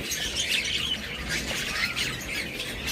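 Pair of albino cockatiels for sale giving harsh, repeated squawks close by, busy bursts over a steady noisy background with no speech.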